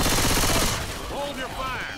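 Rapid bursts of automatic gunfire from survivors in the zombie shooter Left 4 Dead, loud and dense at first, then giving way to a quieter tail with faint voice-like sounds.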